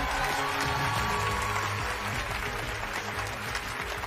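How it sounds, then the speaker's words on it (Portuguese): Studio audience applause on a Brazilian Sunday TV variety show, a steady dense wash of clapping that holds at a loud, even level throughout with music or background sound underneath and no clear talk. "Uma salva de palmas para Renato Aikiago Matsuda"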